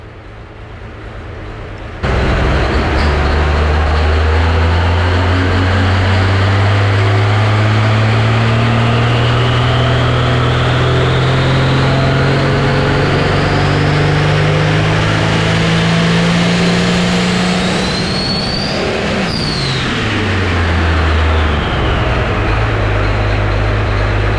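A rebuilt Thunderclutch 4.1 Limited Pro motor roars through a loud, sustained dyno pull after a brief quiet start, its engine pitch climbing steadily for about twenty seconds, then dropping sharply and settling back toward idle.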